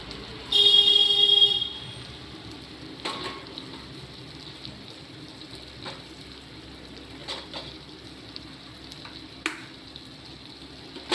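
Food frying in a pan after a little oil is sprinkled over it, opening with a loud burst of sizzle that settles into a softer steady crackle, punctuated by scattered clicks and taps, close with no talk.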